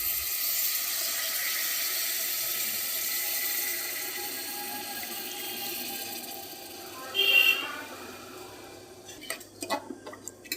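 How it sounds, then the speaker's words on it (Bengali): Coconut milk pours into well-fried ginger-garlic spice paste in a pan, a steady liquid rush running for several seconds, then a brief louder splash and scattered clinks of the utensil toward the end. "এবার আমি এর মধ্যে নারকেলের দুধটা দিয়ে দেব"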